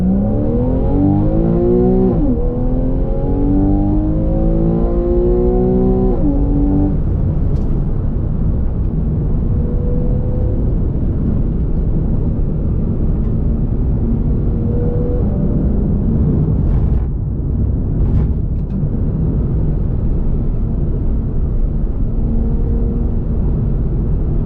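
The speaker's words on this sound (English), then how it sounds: "it sounds like a proper race car" A Porsche 911 Carrera of the 991.1 generation accelerates hard from inside the car, its engine note rising through the revs in loud sweeps, shifting, then droning steadily under constant cabin rumble.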